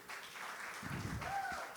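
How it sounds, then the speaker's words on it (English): Audience applause breaks out at a live investing show's 200th episode event, a steady wash of clapping that swells midway and holds under a faint voice. "Big round of applause over here."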